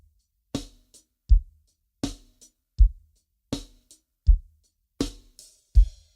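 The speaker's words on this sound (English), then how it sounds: "this first drum beat that every beginner drummer learns. It sounds something like this." A basic beginner drum beat on an acoustic kit: bass drum, snare and hi-hat in a steady, slow repeating pattern, alone and clear, with each hit decaying into silence.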